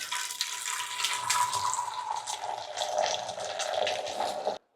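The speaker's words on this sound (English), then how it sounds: "We're gonna fill up a nice pot of water and get it nice and soaked." Water runs from a tap into a pot, a steady close rushing fill whose pitch shifts as the level rises, then cuts off sharply near the end.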